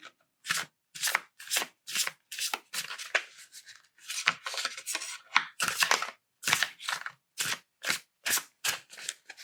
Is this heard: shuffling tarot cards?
yes